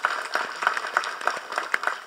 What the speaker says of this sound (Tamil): முதல்ல அவங்க 2 பேருக்கு நம்ம முதல்ல கைத்தட்டி பாராட்டு தெரிவிச்சுக்கலாம்